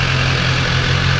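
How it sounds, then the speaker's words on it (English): Motorcycle engine idling after being switched on to warm up before a winter engine oil change, a steady low rumbling idle that is loud and close throughout, with no talking. "Turned on the bike"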